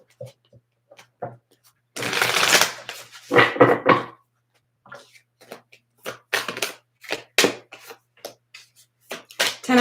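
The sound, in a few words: shuffling a tarot card deck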